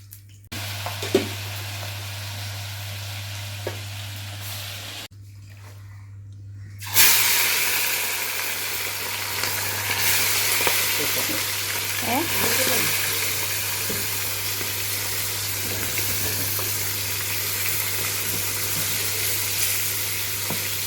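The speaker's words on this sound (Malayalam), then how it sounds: "അതിലേക്ക് കുറച്ച് ഓയിലും കൂടി വെച്ച് കൊടുത്തിട്ട് ഇങ്ങനെ കുറേശ്ശായിട്ട് പൊരിച്ചെടുക്കാം" Chicken pieces frying in oil in a kadai: after a few seconds of quiet with a low steady hum, a loud hissing sizzle bursts in and carries on evenly to the end, with faint crackles.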